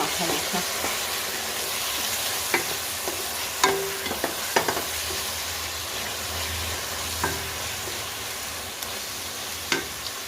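Snake gourd fries with mustard paste in a pan, a steady close sizzle and hiss broken by scattered clicks of a stirring spoon, with no talking.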